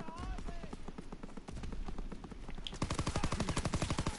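Rapid machine gun fire from an aircraft gunner in the video game Call of Duty WWII pounds in fast, evenly spaced bursts that grow louder near the end, with players chatting over the shooting.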